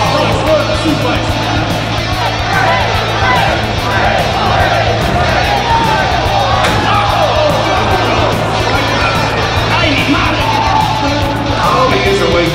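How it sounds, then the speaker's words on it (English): Crowd at a live wrestling event at an anime convention, a continuous dense roar of cheering, yelling and whooping with scattered shouts and claps, loud and sustained throughout. "I hear the crowd. Definitely know we've got a crowd."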